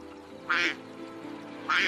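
Two loud, close cartoon duck quacks from a waterbird in an animated Hansel and Gretel fairy tale set in a witch's forest, separated by a quiet gap over a faint low background hum.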